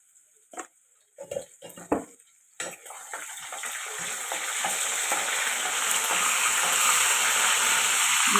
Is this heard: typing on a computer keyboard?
no